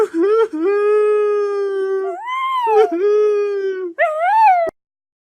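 A dog howls in long, drawn-out wails, rising and falling in pitch over several seconds, loud and close, then cuts off abruptly.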